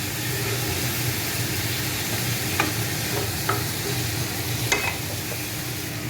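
Boiled potato pieces being stirred into chicken curry frying in a pan, with a steady loud sizzle and hiss throughout and a few soft scraping stirs and clicks of the utensil scattered over it.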